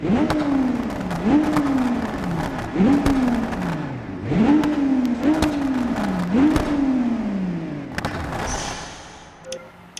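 Sports car engine in the BeamNG driving game revs up and down repeatedly in a sawtooth pattern, with sharp crackling exhaust pops on each lift-off and a final burst of pops as it winds down.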